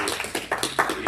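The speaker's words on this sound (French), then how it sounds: "Merci, vous pouvez les applaudir." An audience applauds, a short burst of scattered, fairly close handclaps that comes in uneven waves.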